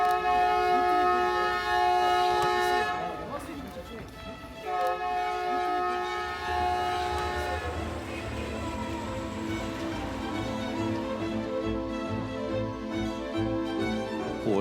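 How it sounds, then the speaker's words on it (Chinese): An old Soviet train running from Almaty to Turkestan sounds long tonal horn blasts, then the rumble and clatter of the moving train takes over as the horn fades. "它是一个老式的苏联火车"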